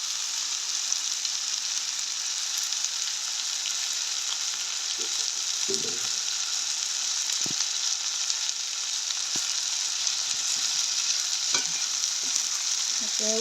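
Vegetables for Jaffna pachai sothi sautéing in a pan, a constant loud sizzle with scattered spoon knocks and scrapes as they are stirred.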